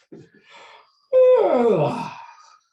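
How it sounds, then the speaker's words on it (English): A person yawns aloud, a short intake followed by a long drawn-out, falling vocal moan, close and alone. "And you turn your head to the other side and yawn."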